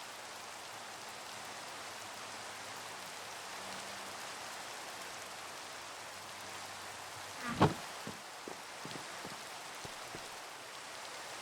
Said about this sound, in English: Work won't stop just because it's raining